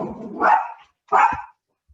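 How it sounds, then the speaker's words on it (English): A dog barks at someone at the door, two close, loud barks about half a second apart, with no talk around them. "I'm so sorry that my dog is going to bark because somebody's at the door."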